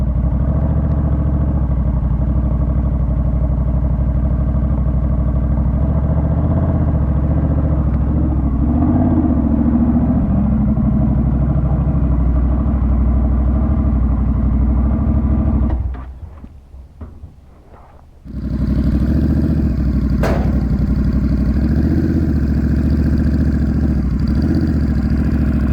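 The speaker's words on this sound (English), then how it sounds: "Off the stand, put it in gear, very light throttle." A Honda Rebel 1100 motorcycle engine runs steady and loud at close range in gear under very light throttle, a constant rumble that drops away briefly before picking back up.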